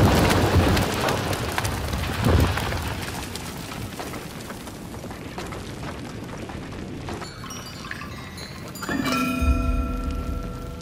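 Steady rain falls in the samurai video game Trek to Yomi, a dense continuous hiss with low rumbling booms, later joined by a sustained ringing tone near the end.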